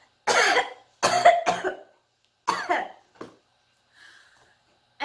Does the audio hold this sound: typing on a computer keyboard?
no